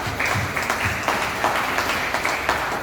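Church congregation applauding the Lord during a French-language service, a steady crowd of clapping hands, loud and close, lasting a few seconds with faint voices underneath.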